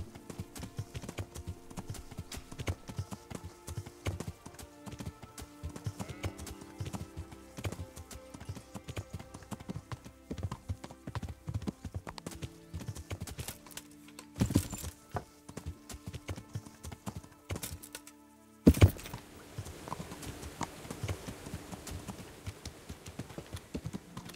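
Horse hooves clip-clop in a steady, brisk rhythm throughout in the video game Kingdom Come: Deliverance, briefly pausing near the end before resuming.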